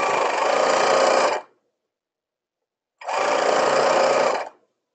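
Sewing machine running a long straight basting stitch without zigzag to join tutu edges, two loud close bursts of rapid mechanical whirring of about a second and a half each, separated by a clean silent gap.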